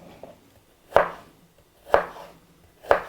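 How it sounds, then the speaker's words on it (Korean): A knife cutting a peeled pear into thin julienne strips on a board, three sharp, evenly spaced chops about a second apart, close and clear with quiet between. "이렇게 채를 썰어 주시면 됩니다"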